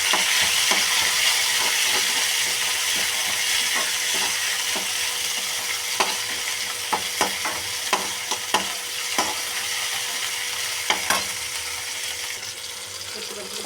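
Tomato and vegetables, including elephant foot yam, sautéing in a pan, a steady loud sizzle with frequent clicking scrapes of a spoon stirring, irregular and close throughout.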